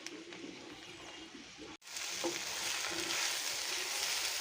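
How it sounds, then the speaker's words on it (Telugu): Gongura leaves frying in oil in a pan (bandi), a soft sizzle and stirring hiss that cuts out briefly and then returns louder and steadier, with no talking. "ఈ బాండీలో ఆయిల్ వేసుకొని కూరని వేసి కొద్దిగా వేయించుకోవాలి."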